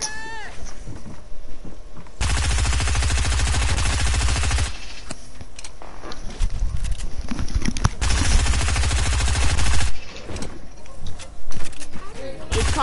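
Rapid SMG bursts crackle in a no-build Creative mode shootout in a video game, sustained stretches of automatic fire with pauses between, while excited players shout over it.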